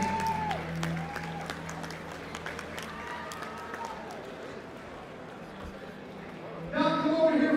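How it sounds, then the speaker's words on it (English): Audience applause and clapping fill an MMA cage arena as a guest is welcomed, a steady dense roar of hands with voices mixed in, swelling louder near the end. "Please give a round of applause for Dr. Jenkins."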